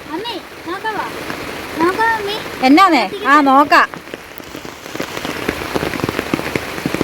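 Fast-flowing floodwater after rain rushes with a constant broad hiss beneath excited voices talking close by, the water continuing on its own once the talk thins out.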